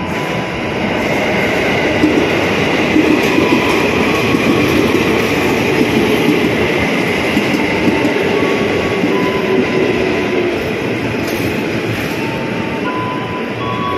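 A KRL commuter rail train in Jakarta rumbles past a walkway beside the tracks near Sudirman, a loud, steady roar of wheels and carriages lasting throughout with no talking.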